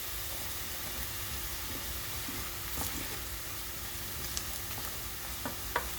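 Masala fries in a pan for paneer with a faint, even sizzle and hiss, dotted with a few soft utensil clicks near the end.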